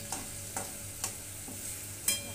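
Finely chopped potato frying in hot oil, a soft background sizzle broken by four or five spatula scrapes and stirs spaced about half a second apart, quiet and close.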